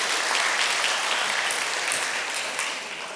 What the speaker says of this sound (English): maybe give yourselves a round of applause.